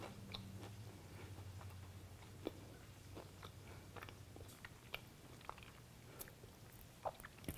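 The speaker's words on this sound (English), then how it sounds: "I'm going to take a bite of it." Biting into and chewing a peanut butter cupcake with a crunchy muffin top, close and quiet: a run of soft crunches and moist chewing clicks spread through the clip, with no talking.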